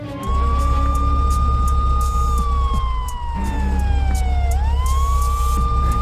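A police car siren wails loud and close, its tone sliding slowly down and then sweeping back up, over a low rumbling engine.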